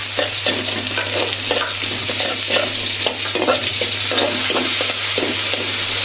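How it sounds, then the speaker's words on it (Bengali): Onions frying in a pan are stirred with repeated scraping strokes over a steady sizzle. The sound is close and loud, with a low constant hum underneath and no talking. "এটা দিয়ে একটু নাড়াচাড়া করি"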